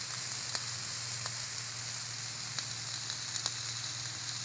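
Mixed vegetables stir-fried in a pan for a Thai dish give a steady, moderately loud sizzle with occasional sharp pops and crackles, alone without talk.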